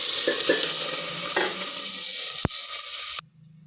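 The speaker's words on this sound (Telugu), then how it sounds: "ఉల్లిగడ్డ, పచ్చిమిర్చి, కరివేపాకు వేసాను" Onion, green chili and curry leaves fry in hot oil for upma, a loud steady sizzle with light stirring scrapes, then a sharp knock before it cuts to quiet low hum.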